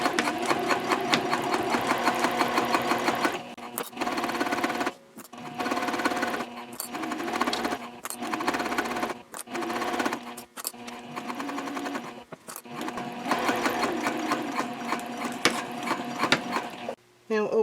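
A sewing machine runs in repeated bursts, stitching a 1/4 inch seam at stitch length 3.0 for a Hannah Sling bag, with backstitching at both ends; the motor hums steadily, pausing briefly between runs.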